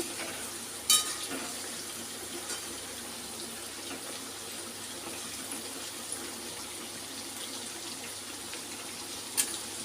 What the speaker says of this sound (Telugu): చికెన్ అయితే బాగా ఫ్రై అవుతుందండి